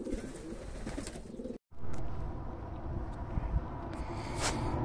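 Racing pigeons returning from a training flight, with soft cooing among general outdoor noise and a steady breeze; after a brief gap the ambient sound resumes fuller, with no voices.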